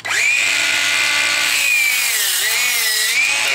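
A chop saw spins at a loud, steady high-pitched whine while making a 22.5 degree angled cut through wood for common rafters, with the pitch dipping slightly as the blade bites.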